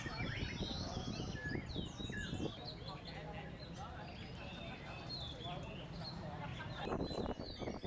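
Songbirds at a Vietnamese bird cafe chirp and tweet in a dense chorus of many overlapping calls, steady and moderately close, under a low murmur of talk and background bustle.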